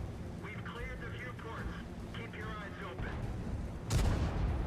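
Tank cannon fire in World of Tanks, a heavy blast near the end after distant rumbling gunfire, with someone talking over much of the battle noise.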